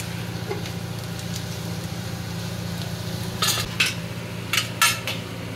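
Water chestnuts sizzle steadily as they fry in a pan while a utensil scrapes and clinks against it several times in quick strokes toward the end; no talking.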